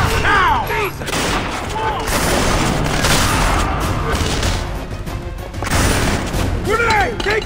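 A grenade explosion followed by sustained gunfire in the video game Splinter Cell Conviction, loud booms and rattling volleys filling the stretch, with shouted voices at the start and end.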